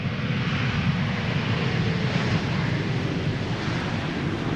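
An ITA Airways A320neo jet arriving at Amsterdam Schiphol gives a steady, broadband engine roar that holds at an even loudness throughout, with no voices.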